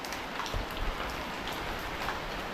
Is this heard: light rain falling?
yes